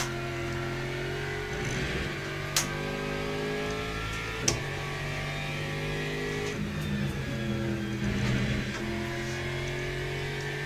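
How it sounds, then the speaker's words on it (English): A V8 BMW M6 race car in a racing video game drones with a steady engine note that shifts pitch slightly as it holds speed, loud and continuous with a few sharp clicks. "Yeah, the V8 BMW."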